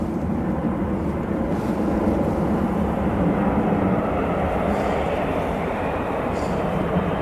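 Lufthansa Airbus A319 bound for Frankfurt at Manchester Airport, a steady loud jet engine roar that holds evenly throughout, close and continuous with no voices over it.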